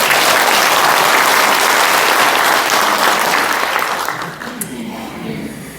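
Dense applause from an audience at a book launch event for two members of parliament, loud and sustained, then thinning out toward the end.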